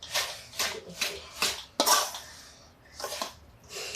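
Warm pistachio and almond laddu mixture stirred in a pan with a utensil, a series of close, sharp scraping and clinking strokes with short gaps, one louder scrape near the middle.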